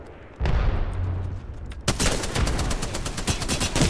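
Rapid automatic gunfire and explosions from an Apex Legends match crackle loudly and continuously, with dense bursts of shots near and far stacking up, especially in the second half.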